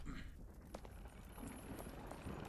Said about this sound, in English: They sound like little horses clip clopping.